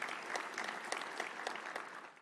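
An audience at a state administration event in Ohio claps steadily for about two seconds, with a quiet, moderately dense texture of hands and no speech on top.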